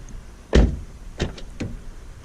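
Door of a 10th-generation Honda Civic Sport hatchback: a handle is pulled, then the door shuts with a solid thunk, followed by a couple of lighter clicks and taps nearby, with no talking.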